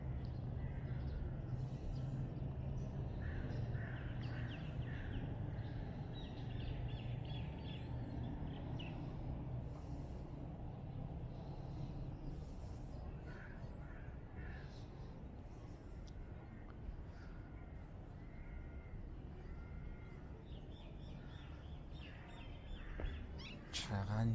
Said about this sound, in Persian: چقدر این صدا خوبه، صدای پرنده ها.